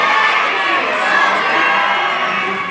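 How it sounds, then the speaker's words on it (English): A crowd of children at Legoland Florida's Pirates Cove ski show yelling together on a count of three, a loud sustained burst of massed shouting and cheering. "On the count of three, let's all yell, get back here, soldier."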